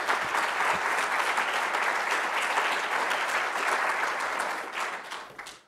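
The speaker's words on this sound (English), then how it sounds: "so please give a round of applause to her." A room of attendees at a finance club symposium breaks into steady, moderately loud applause for several seconds before it fades out at the end.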